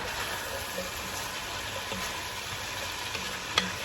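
Keto chicken chowder with celery root being stirred in a pot, a steady soft sizzling wash with faint scraping ticks and one sharper clink near the end, no talking.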